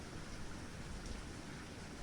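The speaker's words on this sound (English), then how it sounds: "the rain runs down the glass in slow," Soft, steady rain against a window pane, a faint continuous hiss with no distinct drops or voices.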